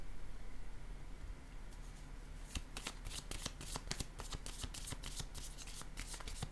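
A deck of cards being shuffled: after a quiet, hissy opening, a rapid run of crisp riffling clicks starts partway through and continues steadily, close and fairly loud, with no talking.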